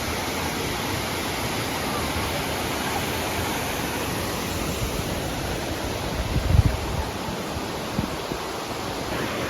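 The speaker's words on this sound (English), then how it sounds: "So this is the top of the waterfall" Steady, broadband roar of rushing water, continuous and loud with no pauses, heard from the top of a waterfall in Langkawi.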